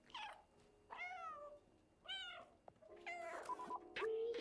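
A cat in the video game Stray meows repeatedly, four or five clear, close, drawn-out cries spaced about a second apart, with no talking.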